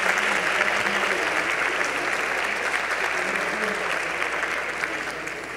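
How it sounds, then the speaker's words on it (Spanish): Sustained audience applause filling a hall at a university inauguration ceremony, an even wash of many hands clapping at once that stays loud throughout with a slight fade near the end. "un fuerte aplauso a los profesores y alumnos que integran el área de reflexión"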